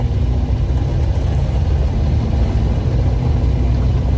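A 1972 Plymouth Cricket engine running steadily close by, a loud, constant low rumble with no voices.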